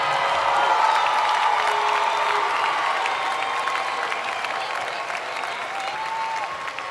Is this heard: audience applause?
yes